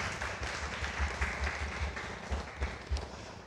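A church congregation claps together after a closing prayer, a moderate run of rhythmic hand claps with a few louder beats, heard alone without talking.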